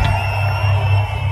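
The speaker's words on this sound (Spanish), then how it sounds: "El grito fuerte para estos maestros." A large crowd at a metal concert at Hell and Heaven 2023 in Mexico roars and yells loudly and continuously, a dense wall of shouting voices.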